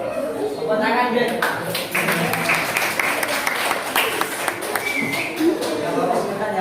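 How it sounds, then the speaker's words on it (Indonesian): An audience at an Islamic studies lesson claps in a dense, continuous patter while a voice keeps talking over the applause. "Tepuk tangan deh."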